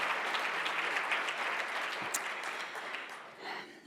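An audience at a Huntington's disease medical meeting applauds a keynote speaker, a sustained wash of many hands clapping at moderate volume that tapers off toward the end, without any voices.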